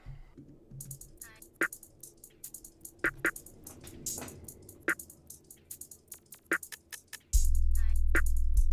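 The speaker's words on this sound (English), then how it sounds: "So all the drums together sound like this." A programmed drum beat with crisp, steady shaker ticks over sharp snare-like hits; a deep bass swell enters loudly near the end.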